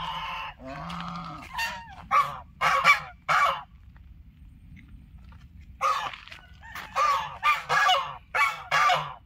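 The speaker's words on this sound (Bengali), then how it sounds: "বিভিন্ন রকমের পাখির ডাক কিন্তু শোনা যাচ্ছে এখানে এসে।" Birds call loudly across a park at Mukutmanipur in the rainy season, with bursts of harsh honking and a quiet pause between the two groups of calls.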